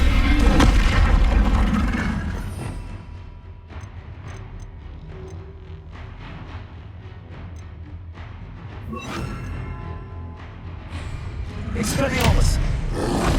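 Confringo fire-blast spell bursts in the video game Hogwarts Legacy: a loud, deep booming blast opens, low rumbling roars and crackles carry through the middle, and a second heavy boom swells near the end, with voices mixed into the combat din.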